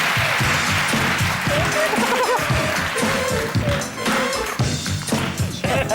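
A song plays loudly and continuously, a dense mix of beat, bass and vocal lines filling the whole stretch with no pauses.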